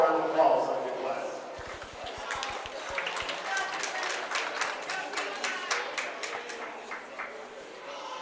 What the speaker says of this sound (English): let's give all a round of applause on a good class